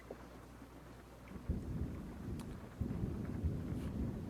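Steady rain with low rumbles of thunder, the rumble swelling twice into heavier rolls partway through, a continuous stormy ambience with no voices.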